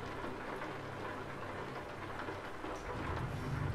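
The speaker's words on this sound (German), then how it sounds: "Und es regnet." Rain in Euro Truck Simulator 2 on a dark night drive, falling as a steady, dense hiss with a low rumble underneath, continuous and even, with no voices.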